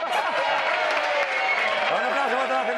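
A large crowd of about 400 Real Madrid supporters' club members applauds and cheers continuously, a dense roar of clapping and shouting voices that stays loud throughout.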